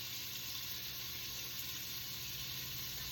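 Beef for a stew searing in a pan of vegetable oil and a stick of butter with garlic and paprika, giving a steady, faint, continuous sizzle with no one speaking.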